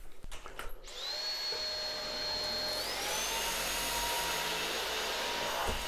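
Roborock H6 Adapt cordless vacuum cleaner running on low power over carpet, a steady close motor whine that rises in pitch partway through as the suction adjusts, after a brief clatter at the start.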